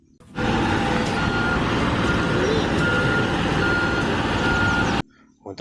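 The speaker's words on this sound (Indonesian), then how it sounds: "Widih, ini truk molen." A toy concrete mixer truck makes a loud electronic truck sound with a steady engine rumble and repeated reversing-style beeps, starting abruptly and cutting off after about five seconds.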